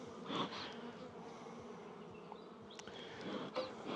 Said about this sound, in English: I don't really want all these bees up on here.